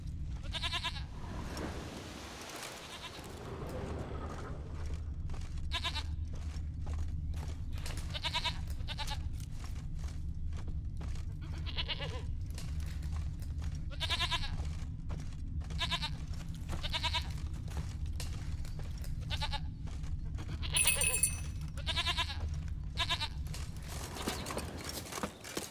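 Goat bleating in The Witcher 3: Wild Hunt, repeated short bleats spaced through a long stretch over a steady low ambient hum, moderately close.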